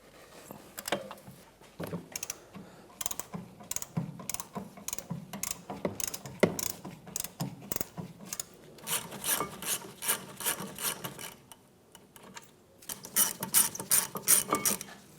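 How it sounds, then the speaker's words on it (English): A breaker bar and 14mm socket work loose the caliper bracket bolts on a 2011-2016 Hyundai Elantra rear wheel hub, giving rapid ratcheting clicks and scraping in several close, moderately quiet bursts. "So with a 14mm socket and a breaker bar, we'll remove those now."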